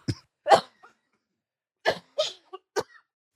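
Several short, dry coughs close to the microphone, a pair at first, then a cluster of quick hacks after a brief silence.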